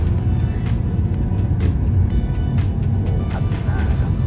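A Mercedes-AMG sports car on the move gives a loud, steady engine and road drone heard from close by, with a few brief swells in the rumble.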